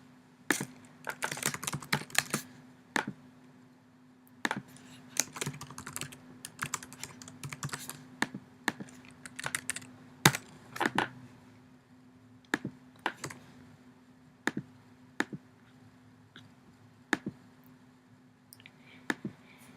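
Typing on a computer keyboard while entering a client's name into office software, with irregular bursts of sharp clicking key presses close up, separated by pauses, over a faint steady hum.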